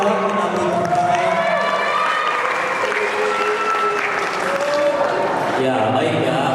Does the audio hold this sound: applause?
yes